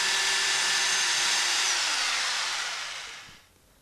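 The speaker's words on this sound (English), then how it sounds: "drill the locating holes for the internal flanges" A power drill whines steadily at high pitch, drilling locating holes in a wall for air conditioner duct flanges, then spins down and stops near the end, leaving near silence.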